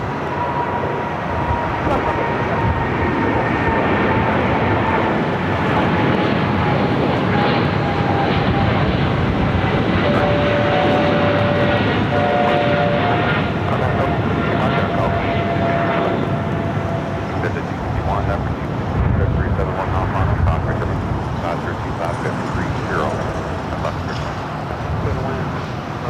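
A China Cargo Airlines Boeing 777 freighter jet at LAX produces a loud, sustained engine roar with a steady whine, while radio chatter and voices run over it throughout.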